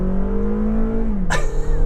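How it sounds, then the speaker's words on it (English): A 2021 Toyota RAV4 Adventure engine roars steadily under heavy throttle at about 40 mph, its pitch climbing slightly, then a sharp whoosh cuts in near the end. "You guys can hear how the engine works."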